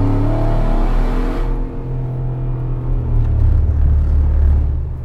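A car accelerates hard on a wet road while its traction control is tested, the engine rumbling and revving loud and close as the tone climbs, with no voices.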